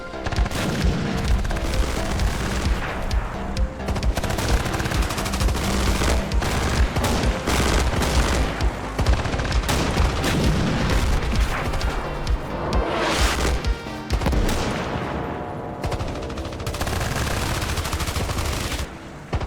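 Armored Brigade II battle with dense, continuous gunfire, machine-gun bursts and booming explosions from mortars and vehicles firing into buildings, loud and layered throughout without speech.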